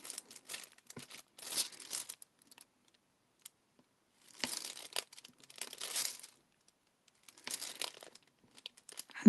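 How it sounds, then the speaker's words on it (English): Plastic wrapping on a diamond painting kit crinkles and crackles up close in several handling bursts, with quiet gaps between them. "I'm still crinkling on the wrapping."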